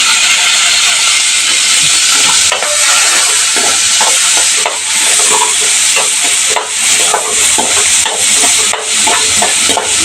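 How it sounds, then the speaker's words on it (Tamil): Chopped onion frying in oil for brinjal kuzhambu, a steady loud sizzle and hiss with scattered stirring clatter throughout, no talking. "ஒரு பெரிய சீஸ் வெங்காயம் கட் பண்ணியிருக்கேன் அதை ஒன்று சேர்த்துக்கலாம்"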